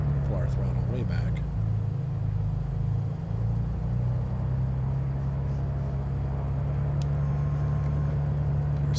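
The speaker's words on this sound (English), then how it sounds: "we're going to pull our throttle way back" A Mooney Bravo's engine, throttled back on approach in Microsoft Flight Simulator 2020, makes a steady low droning rumble with a faint wavering tone throughout, with a voice talking over it.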